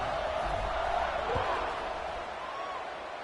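A stadium crowd at a football game during a kickoff, a broad sustained roar of cheering and whooping from many voices, heard at a distance and fairly loud throughout.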